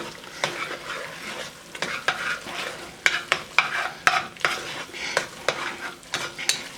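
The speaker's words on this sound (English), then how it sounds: "I'm gonna add the rest of our flour. Stir that up really well." A utensil stirs flour into cream of mushroom soup in a pan, giving repeated rhythmic scraping strokes against the pan bottom over a low background sizzle, close and fairly loud.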